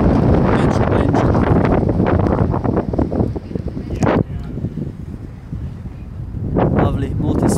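Strong gusting wind buffeting the microphone outdoors at a Volkswagen dealership, a loud continuous rumbling roar that eases and then surges again, with someone talking through it.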